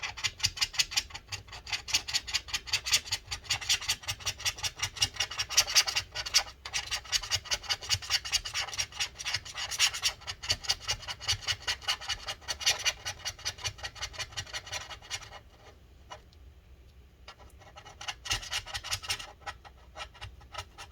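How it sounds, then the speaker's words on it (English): A tool scraping battery glue inside a 2012 15-inch Retina MacBook Pro A1398, rapid repeated close scratching strokes in steady rhythm, pausing briefly near the end before resuming, with no talk. "Let's rotate this again and continue scraping."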